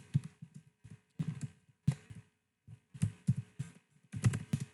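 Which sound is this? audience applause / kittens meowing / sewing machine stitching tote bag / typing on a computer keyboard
typing on a computer keyboard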